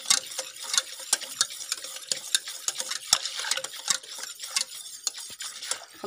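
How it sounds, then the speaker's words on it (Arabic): A spoon stirs pastry cream made with cornstarch into cold milk, giving steady scraping clinks against the bowl in an uneven rhythm, close and fairly clear with no talk. "نبقى نحركو مزيان، نديرو في حليب بارد"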